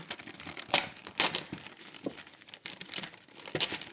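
Small picture frames are unwrapped from their packaging, with close, soft crinkling and rustling broken by several sharper crackles and tearing bursts.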